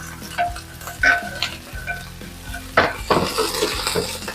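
Close, loud sizzling of minced pork and holy basil stir-frying in hot oil in a pan, with a spatula scraping and clanking against the metal as it is stirred.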